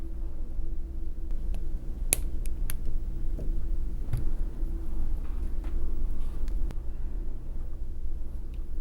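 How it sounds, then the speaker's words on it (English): Cutters snip 22 gauge wire while making handmade earrings: a few crisp, quick clicks close together, followed by scattered softer ticks over a steady low hum. "I can come around to the back with my 22 gauge wire and snip off in the back."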